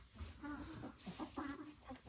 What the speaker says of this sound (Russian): здесь у нас курочка сидит, несется